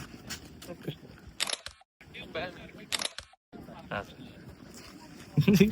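Two sharp camera shutter clicks a second or so apart, each followed by a brief hush, with people chatting around them.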